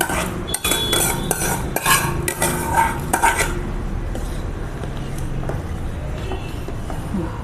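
Roasted vermicelli stirred into milk in a pot: a run of quick, loud metal scrapes and clinks of a spoon against the pot for a few seconds, then fading to a quieter steady simmer.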